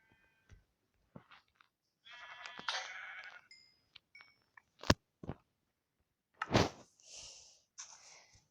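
Sheep bleat in two wavering bursts, quiet and somewhat distant, separated by scattered sharp clicks and knocks.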